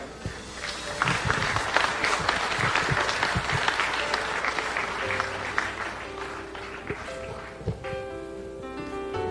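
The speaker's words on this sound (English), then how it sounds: "A nice round of applause to bring them out" Audience applause for pageant contestants in traditional wear at the Miss South Pacific Pageant, a sustained crowd of clapping that swells and holds steady, with music tones entering near the end.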